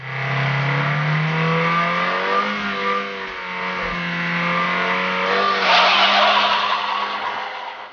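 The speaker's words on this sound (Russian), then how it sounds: "В таком режиме Омега может разгоняться примерно до 200 км в час," A 1995 Opel Omega B with a 2.0 X20XEV petrol engine and manual gearbox accelerates hard, its engine note rising steadily in pitch through a gear, loud and close, with a brief harsh burst near the end and no talk.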